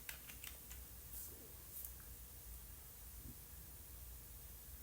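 A few quick keystrokes tap on a computer keyboard while a command is entered on a Raspberry Pi 4. The soft clicks cluster near the start and then give way to a quiet hum.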